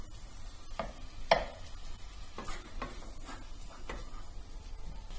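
Minced meat for lasagna sizzles in a pan while a utensil scrapes and stirs it, giving a few sharp knocks over a constant fry.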